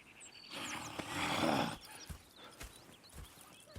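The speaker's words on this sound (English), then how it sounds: "Go check the horses are ready." Horses in the video game Red Dead Redemption 2 give a loud, breathy whinny and snort, followed by several scattered hoof clops on the ground at close range.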